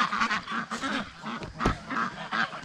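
Domestic ducks kept alongside geese on a small farm quack and honk repeatedly in an overlapping, fairly loud flock chatter, with several calls stacking up over a couple of seconds.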